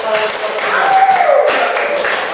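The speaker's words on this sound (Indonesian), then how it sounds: "Beri tepuk tangan" A crowd claps together in a steady, dense patter of applause that carries on throughout, loud and close.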